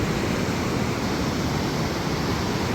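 Mountain river water rushing at the confluence of the Dhauliganga and Alaknanda, a loud, steady roar of turbulent flow with no breaks, close and unbroken.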